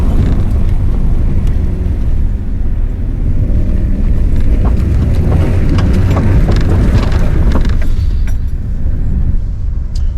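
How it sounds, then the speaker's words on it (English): A 2021 Fiat Panda 4x4 in off-road mode crawls straight over rocks, its loud continuous engine and drivetrain rumble mixed with wind buffeting the microphone and occasional knocks from the tyres and suspension. "Right, off-road mode. Straight over those rocks."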